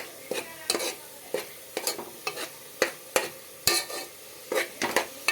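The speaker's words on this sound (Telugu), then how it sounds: "అల్లం వెల్లుల్లి పేస్ట్ను పసుపు వేసాను ఇప్పుడు కాస్త కాస్త వేగనిచ్చేద్దాం" Ginger garlic paste and turmeric fry in a pan for vegetable biryani, a soft sizzle under repeated sharp scrapes and clinks of a spoon stirring against the pan, close and irregular.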